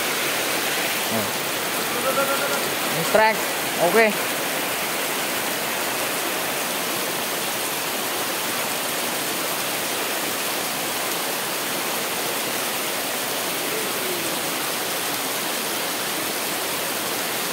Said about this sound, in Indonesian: Hujan lagi.